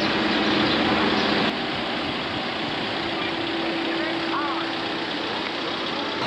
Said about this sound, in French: tous ces véhicules, moteurs tournants bien sûr, pour garder la clim pendant que les gens visitent